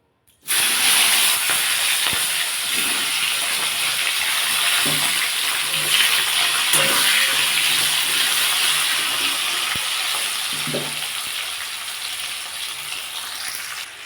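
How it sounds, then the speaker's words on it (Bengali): Capsicum pieces fry in hot oil that was just used to fry fish, giving a continuous close sizzling hiss. A few soft low knocks and stirs from the pan break through now and then, with no talking. "এবার ওই তেলের মধ্যে আমি এই ক্যাপসিকামগুলো একটু ভেজে নেব"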